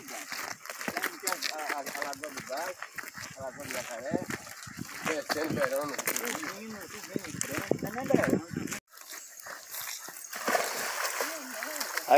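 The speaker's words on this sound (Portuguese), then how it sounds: "dando um caldo nos cachorros aí pra refrescar" Hunting dogs being dunked in water to cool off: splashing, sloshing and trickling run throughout, with voices talking over it, a brief cut, and the splashing continuing afterward.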